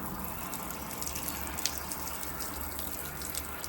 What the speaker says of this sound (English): this is the sort of rinse you get when you've got the wide brush and the rinse bar inside